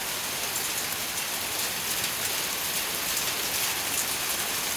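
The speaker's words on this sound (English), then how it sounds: "And it's hailing." Hail falls in a dense, steady hiss of tiny impacts that stays even and fairly loud throughout, with no voices.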